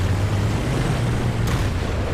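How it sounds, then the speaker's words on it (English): A T110E5 tank gun in World of Tanks fires a shell, a loud low booming rumble that fills the moment with a brief sharper crack partway through. "Another shot into the T30."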